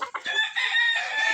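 Full-grown roosters on a poultry farm crowing, one long loud cock-a-doodle-doo with a few clucks at its start, heard close and alone.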